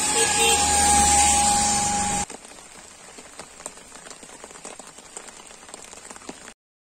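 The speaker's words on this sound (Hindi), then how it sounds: "बारिश शुरू हुई और छतरी निकलना शुरू हो गई।" Steady rain patters on a roadside in Rishikesh, a dense, even hiss of drops. A louder rushing noise comes first, then the rain continues on its own.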